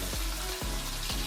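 Salt-seasoned potatoes frying in a pan, a steady loud sizzle with a few brief bursts or stirs, no voices.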